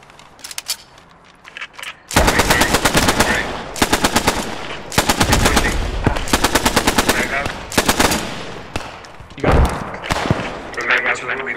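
A Bren light machine gun rattles in the World War II shooter Post Scriptum, firing several loud, close sustained bursts separated by short pauses, with a few fainter shots and thumps between them.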